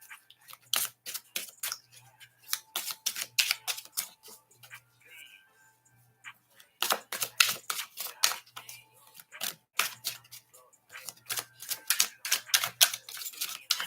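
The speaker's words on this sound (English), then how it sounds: "let me just get the card shuffled." Tarot cards are shuffled in quick, crisp bursts of riffling clicks, close and dry, broken by short pauses.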